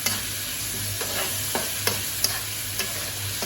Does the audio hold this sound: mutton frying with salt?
yes